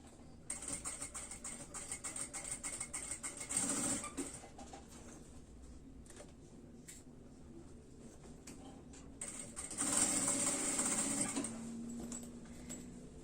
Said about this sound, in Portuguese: Vou passar essa costura na volta inteira dela, acertando sempre esse forro.